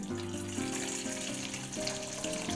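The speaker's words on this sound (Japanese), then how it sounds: "ボウル台に湯煎用のお湯を入れます。" Hot water is poured into a bowl stand to make a water bath for baking a cocoa sponge cake, a soft continuous splashing and trickling stream, fairly quiet.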